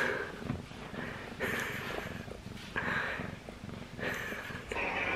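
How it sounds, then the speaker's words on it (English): A small, fluffy cat purring close to the microphone, a soft rhythmic rumbling purr in steady cycles with breathy inhalations, no voices. "Loves purring."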